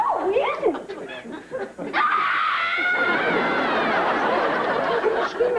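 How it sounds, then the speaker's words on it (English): A person screams in a sitcom scene, a sustained loud shrill cry that follows brief talk and laughter and holds steady for several seconds. "What are you screaming about?"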